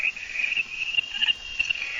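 Frogs calling during heavy monsoon rain, a steady high-pitched trilling chorus with soft patter underneath, faint and unbroken.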